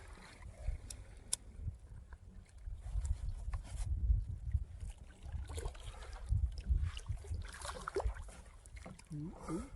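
A kayak paddled on a river on a breezy day gives soft, intermittent splashes and water swishes under a low, gusty wind rumble, faint and fairly close.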